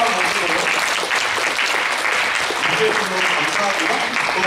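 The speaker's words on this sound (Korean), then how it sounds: "준영 형제가 복귀를 했어요. 박수로" A church congregation applauds to welcome a returning member, steady dense clapping filling the room at close range throughout.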